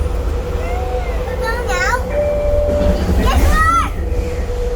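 A Vancouver SkyTrain car rumbles along with a steady low drone and rising and falling electric whines and squeals, while children and adults talk loudly over it.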